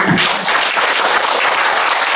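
Congregation in a church applauding together after a prayer and amen, a dense steady wash of clapping that fills the room for the full stretch.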